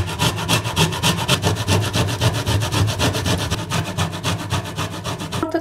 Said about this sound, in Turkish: Rendenin ince kısmıyla kabuğunu ve içini beraber rendeliyorum.